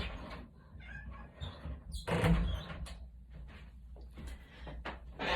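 A house cat meows and cries at a door to be let in, with several short calls spread across the moment and a louder burst near the middle, alongside soft handling and door noises.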